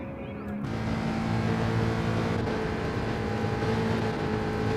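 A race car's engine on throttle in the Gran Turismo racing game at Kyoto Driving Park, a steady loud droning whine sustained throughout after a brief quieter start.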